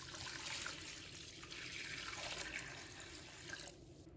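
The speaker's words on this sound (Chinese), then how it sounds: "倒入清水" Clean water is poured onto raw chicken legs that were rubbed with salt, giving a soft, steady splashing trickle that stops near the end.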